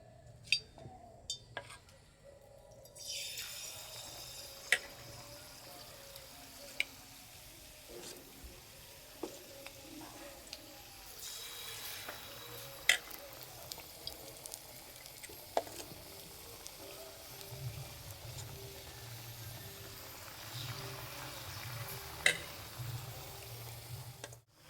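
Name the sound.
gokul pitha frying in hot oil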